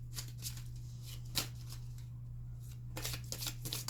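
Tarot cards being shuffled by hand during a reading, giving repeated riffling bursts with a sharp snap near the middle and a denser flurry toward the end, close up over a steady low electrical hum.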